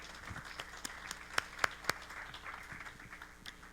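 Scattered applause from a church congregation for Paul after his sermon, a thinner patch of clapping with a few loud distinct claps standing out over quiet room noise.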